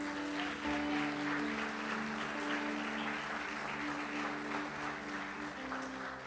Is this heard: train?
no